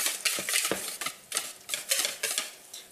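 Spoon mixing pancake batter in a bowl for strawberry pancakes, a steady series of soft scraping and clinking strokes, close and fairly quiet, with no talking.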